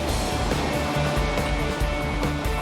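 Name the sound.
ocean waves breaking at Bondi beach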